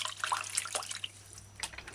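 Water added to a bowl for washing sandy spirulina, a faint, patchy trickle and splash with scattered drips, heard close and alone without any talking.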